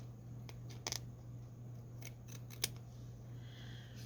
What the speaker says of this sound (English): Now this one I'm going to trim because this white is really standing out right on there.